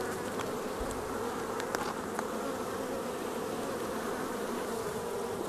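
Honeybees swarm around a log hive in a continuous, dense buzz that fills the space, with occasional louder passes as individual bees fly near.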